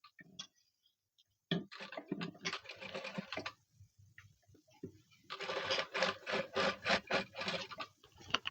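A sewing machine stitches blouse fabric in quick rhythmic bursts, separated by short pauses, close up and fairly quiet.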